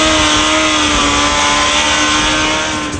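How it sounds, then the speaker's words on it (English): A Suzuki Hayabusa sport motorcycle ridden hard by a racer at Willow Springs racetrack in Southern California, its engine a loud, sustained high-pitched whine holding steady and close throughout. "At the Willow Springs racetrack in Southern California, Suzuki racer Rad Greaves shows us how he rides the Hayabusa."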